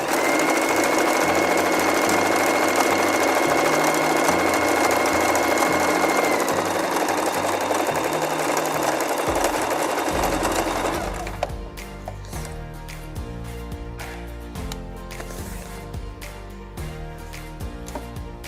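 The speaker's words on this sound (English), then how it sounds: "after we're done sewing this bit" A sewing machine stitches a fabric pocket, its needle whirring in a loud, steady, fast drone close by that shifts to a lighter, changed rhythm partway through, with no talk over it.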